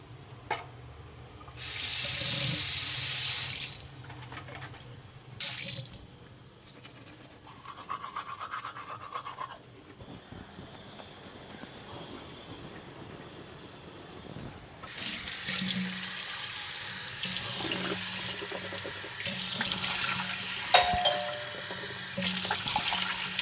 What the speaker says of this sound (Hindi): पहले ब्रश किया जाए